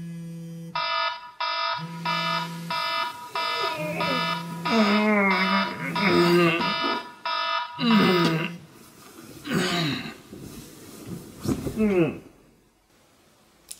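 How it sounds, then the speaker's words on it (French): A bedside alarm clock rings on a wake-up morning, sounding a rapid series of repeated electronic beeps in bursts of pulses. It carries on loud and close, with brief vocal sounds overlapping near the end before it stops. "voici en exclusivité mon réveil de ce matin"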